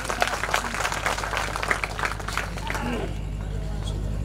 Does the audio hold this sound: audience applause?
yes